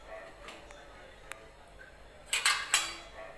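Idlis being taken out of a steamer in a home kitchen, with a few faint metallic clinks and then a cluster of sharper scraping and clanking of steel plates near the end, over a quiet room.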